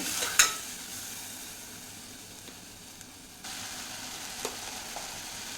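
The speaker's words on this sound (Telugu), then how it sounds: "అన్ని పప్పులు ఇందులోకి వేసేస్తాను. ఫ్రై చేద్దాం." Lentils poured into a pan for dal tadka give a soft, steady sizzle, fairly faint, with a sharp clatter near the start and small stirring knocks, then a slightly louder hiss in the last seconds.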